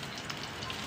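Food frying in a pan, a steady close crackling sizzle with fine popping, loud and unbroken for a second.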